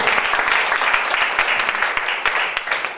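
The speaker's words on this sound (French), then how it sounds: "On acclame le Seigneur." A church congregation applauds during a worship service, a dense, loud, continuous patter of many hands clapping together, steady throughout with some voices mixed in beneath.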